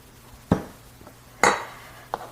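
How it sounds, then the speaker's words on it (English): A cutting board is cleaned off in the kitchen after potatoes are prepared, producing three separate sharp knocks and clatters of utensil against board with quiet pauses between them. "let me clean off my board"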